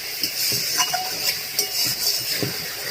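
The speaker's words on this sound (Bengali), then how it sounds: "জল দিয়ে এবার আমি ভালো করে কষে নেব মশলার সাথে আলুটা।" Potatoes being stir-fried with spice masala and a little water in a pan for fish curry, a steady close hiss of sizzling with soft scraping stirs and light clinks of the spatula, no talk.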